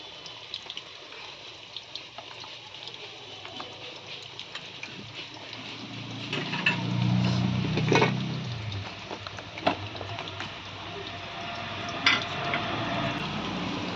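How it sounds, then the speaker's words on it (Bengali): Duck meat squelches wetly as it is mixed by hand with a paste of ginger, garlic and green chili, with soft close-up squishing that builds to a louder thick churn midway, then settles into lighter handling and clinks. "এখন আমি মাংসটা মাখিয়ে নেব মশলা দিয়ে।"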